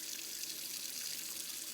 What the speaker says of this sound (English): So I'm just running the hot water just to make it hot now